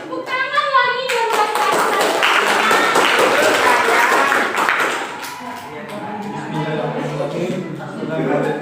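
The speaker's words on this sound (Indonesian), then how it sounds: "Tepuk tangan lagi biar" A classroom audience at a health-promotion session claps together in a sustained round of applause for a few seconds, then it fades as a voice speaks over the room.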